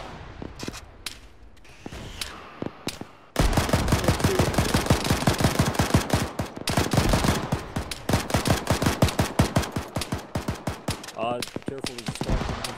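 Gunfire in the military shooter game Arma: a few scattered shots, then dense, loud machine-gun bursts that rattle almost without pause for the rest of the stretch.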